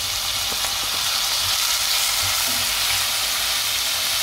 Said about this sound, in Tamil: அந்த தக்காளி வதங்கிடுச்சு.